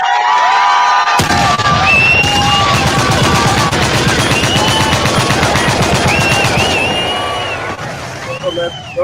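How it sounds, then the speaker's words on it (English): An audience at a presentation erupts in loud applause and cheering, a sudden dense burst of clapping with shouts and whoops over it that tapers toward the end. "let's give this great brother a round of applause"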